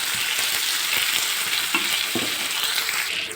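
Onions with salt frying in a pan give a steady, close, dense sizzle throughout, with a few soft stirring knocks in the middle and no voices.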